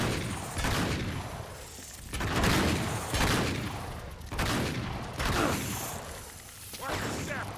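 Gunfire in the video game Uncharted 3, bursts of shots and impacts that rise and fall in waves through a loud firefight, with shouting voices mixed in.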